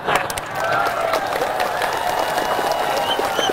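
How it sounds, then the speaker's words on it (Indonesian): Applause from an audience at an Islamic religious lecture, a dense, steady wash of clapping that swells almost at once and holds loud and close for the whole stretch, with no voices clearly standing out. "Banyak yang tepuk tangan, tak jadilah."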